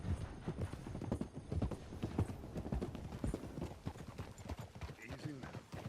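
Horse hooves clip-clop steadily as a rider travels along in Red Dead Redemption 2, the rhythmic footfalls close and continuous, with in-game voices talking over them and a brief whinny-like sound.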